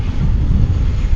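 An Iberia airliner at DFW airport roars in a loud, broad engine rumble, close and continuous, with no talking over it.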